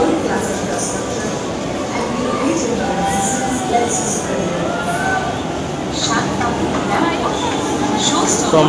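A passenger train rumbles steadily on its ride into Sealdah station, a continuous loud clattering drone with occasional higher squeals and knocks, and people talking under it.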